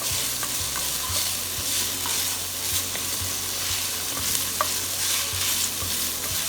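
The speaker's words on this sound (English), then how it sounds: "I'm going to saute it just for a few seconds" Vegetables for vegetable quinoa sauté in a pot, giving a steady close sizzle with stirring scrapes and clinks from a utensil throughout.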